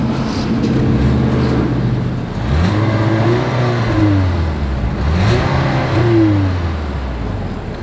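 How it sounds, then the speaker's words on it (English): A 2024 Ford Edge ST's dual exhaust revs up and falls back in two or three strong sweeps over a steady idle, loud and close, with no talking. "As always, here is that exhaust clip."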